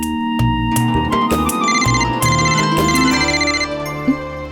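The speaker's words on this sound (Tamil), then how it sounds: "இந்த நேரத்துல யார் ஃபோன் பண்றாங்க?" A telephone ringing with an incoming call in a Tamil TV serial episode, a loud melodic ringtone playing a repeating tune of bright tones, steady and continuous throughout.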